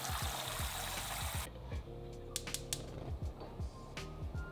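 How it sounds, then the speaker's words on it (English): Tap water gushes steadily into a kitchen pot being filled for boiling eggs, then cuts off, leaving faint drips, clinks and handling noises close by. "I'm just gonna fill up this pot with water so that I can get the hard-boiled eggs going"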